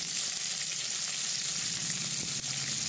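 Onion pieces, dried red chillies and curry leaves fry in a pan for a potato fry, giving a constant dense crackling sizzle close by with no talking.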